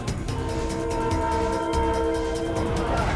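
A Philippine National Railways (PNR) passenger train rumbles past with rhythmic clacking wheels while its horn blares steadily and loudly, close by.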